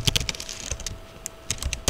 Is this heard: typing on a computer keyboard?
yes